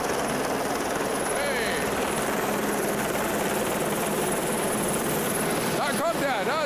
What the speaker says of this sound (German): jetzt warten wir, bis der Helikopter gelandet ist